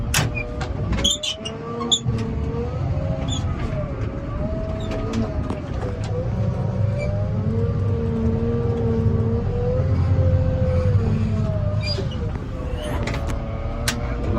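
A Japanese-spec Caterpillar 950H wheel loader drives in second gear, its engine a steady, close drone that rises and dips in pitch, while someone talks over it.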